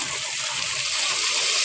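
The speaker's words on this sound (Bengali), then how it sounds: "মশলা ধোয়া পানিতে দিয়ে দেব।" Water used to rinse ground cumin, coriander and garam masala paste is poured into a pot for bhuna khichuri, making a short, steady close-up gush and splash with no talking.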